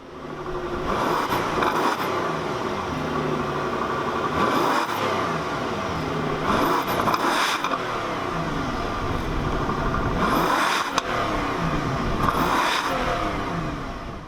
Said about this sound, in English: Let's hear how the 6-liter W12 sounds.